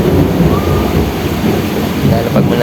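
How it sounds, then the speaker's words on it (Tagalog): Thunder rumbles low and heavy through a storm, a continuous loud roll blended with rain noise. "Pasensya na sa kulog at kidlat, hindi natin makontrol yan eh."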